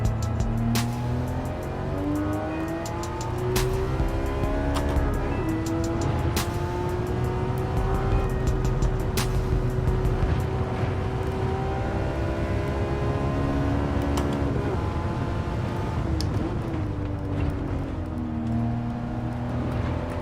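Race car engine in the Gran Turismo 7 game: a continuous, loud engine drone that rises and falls in pitch through gear changes, with sharp clicks and ticks scattered over it and no voices.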